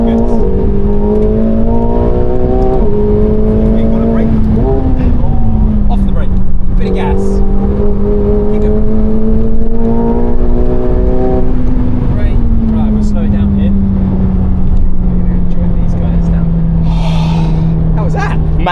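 A McLaren 750S accelerates at full throttle on the Top Gear track, its engine note climbing loud and close in repeated rising pulls with gear changes. A voice talks over it from inside the car.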